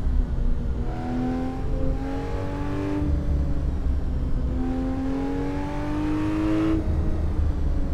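A car engine in the Assetto Corsa racing game on a mountain track in the Wicklow Mountains, droning steadily and rising in pitch through two long climbs, each followed by a gear change.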